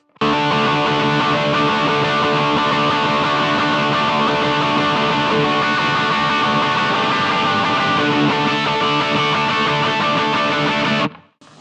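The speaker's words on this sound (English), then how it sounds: "with some overdrive, it would sound like this." A dense, sustained wall of overdriven electric guitar playing a bridge part rings out steadily for about eleven seconds, then stops abruptly.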